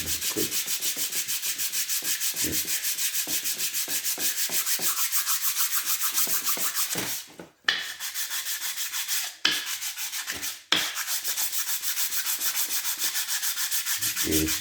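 A Briggs and Stratton cylinder head is hand-sanded on a block for resurfacing. Loud, rapid back-and-forth rasping strokes keep a steady rhythm, broken by a few short pauses before the sanding resumes.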